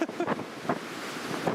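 Storm Otto's gusting wind at Newcastle International Airport, around 60 mph, rushes and rumbles against the microphone, steady and close, with a couple of brief faint thumps near the start.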